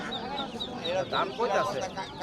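Three old desi roosters brought by an elderly man to a rural village market, clucking in short bursts close by while people talk over them.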